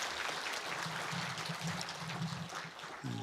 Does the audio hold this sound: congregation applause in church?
yes